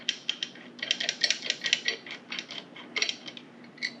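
A hand ratchet starts bolts on a Go Power Sports MB200 minibike, a close run of rapid metallic clicks and ticks in short bursts with brief pauses, no voices.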